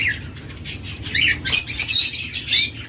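An albino red-eye lovebird pair flapping their wings and giving bursts of squawks and shrill chirps, close by and fairly loud, with no talking.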